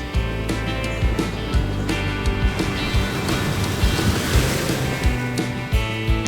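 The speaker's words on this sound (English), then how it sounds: "White sandy beaches and the waves crashing against the rocks." Surf breaks against rocks along a white-sand Caribbean beach on Aruba, a steady loud wash of water with recurring heavier surges and wind underneath.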